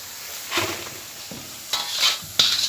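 Pork and fish pieces sizzle in a wok over high heat, with soft spitting and a few sharp scraping stirs of a utensil against the pan, close and fairly quiet.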